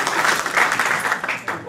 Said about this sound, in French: On applaudit les enfants morts, très bien.